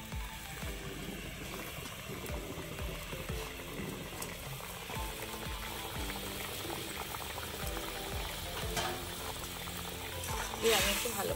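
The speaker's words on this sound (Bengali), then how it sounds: "তেল ঝালের ঝোলটা ফুটে উঠেছে" A pot of spicy mustard-oil fish curry broth with chela fish at a rolling boil, bubbling and popping continuously up close with a few faint kitchen clinks.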